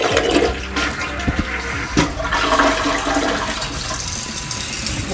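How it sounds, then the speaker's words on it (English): A newly installed toilet flushes, a loud close rush of water swirling and draining throughout, with no talking. "Now I'm gonna flush this a few times just to make sure I have no leaks at the floor"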